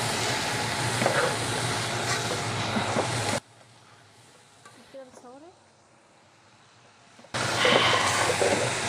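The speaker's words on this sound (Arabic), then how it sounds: "نقلب بقى الرز كده لحد ما يتشوح شويه" Rice stirred and sautéed in a hot pot with onions, a steady sizzle with scraping stirs, cut by a quieter pause in which faint voices are heard.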